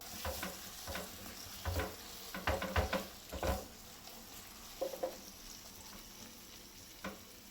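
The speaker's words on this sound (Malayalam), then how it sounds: "നെയ്യ് മെൽറ്റ് ആകുമ്പം ഇതിലേക്ക് അരച്ചു വെച്ച ആ ഒരു ഡേറ്റ്സും ബീട്രൂട്ടും ഉണ്ടല്ലോ അത് ചേർത്ത് കൊടുക്കാം. എന്നിട്ട് നല്ലതുപോലെ ഒന്ന് മിക്സ് ചെയ്ത് കൊടുക്കാം." Date and beetroot paste being stirred into melted ghee in a pan, soft frying hiss beneath clusters of thumping, scraping spoon strokes that come and go.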